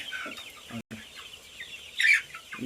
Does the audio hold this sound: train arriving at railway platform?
no